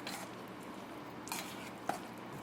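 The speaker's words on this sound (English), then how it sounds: "we want to add it to the mixture that we've been making and stir them all together" Vegan hearts of palm lobster roll mixture being stirred in a bowl, quiet soft scraping with a couple of light utensil taps over a short stretch.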